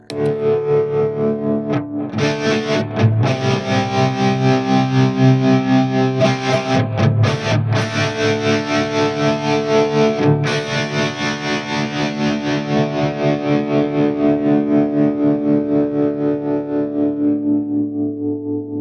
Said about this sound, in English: the next one down is tremolo, and I'm going to go ahead and turn on some distortion